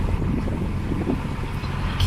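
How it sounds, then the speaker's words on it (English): Steady wind rushes and rumbles against the microphone aboard a narrowboat, a constant low buffeting with no voices. "You can see by the vegetation just how windy it is."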